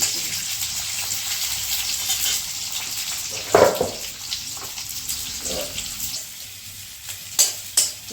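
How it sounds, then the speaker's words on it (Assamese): Sliced onions fry in hot oil in a pan, a steady hissing sizzle with occasional louder scraping stirs, heard close and without talk. "পিঁয়াজখিনি অলপ সময় ভাজি থাকিম গল্ডেন ব্ৰাউন হোৱালৈকে"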